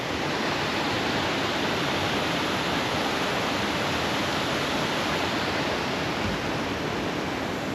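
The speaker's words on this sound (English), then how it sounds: "The water isn't flowing brilliantly, but it's good enough." Steady broadband rush of a stream or waterfall in the Trossachs, Scotland, with a modest flow; a constant, even wash of water noise fills the whole stretch with no voices and no breaks.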